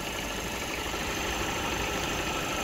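The 1.5-litre diesel engine of a 2020 Hyundai Creta idles with the air conditioning off, a steady, even drone that stays constant throughout with no talk.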